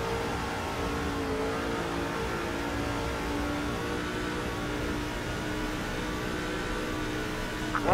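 A race car engine in NASCAR 2005 at Texas holds a steady, loud whine at high revs, droning on evenly with no break and surging slightly at the very end.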